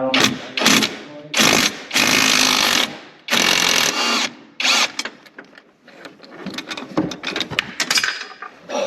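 A small impact wrench works nuts off a shock bolt on a Polaris RZR Pro XP, firing in several loud, close bursts with short pauses, followed by quieter clanks and handling noises.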